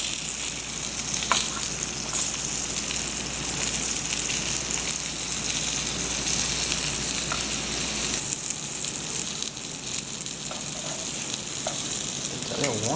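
Fish pieces for Trinidadian stew fish sizzle in a pot over heat just above low, giving a constant close frying hiss for the whole stretch with a few small pops and crackles and no talking.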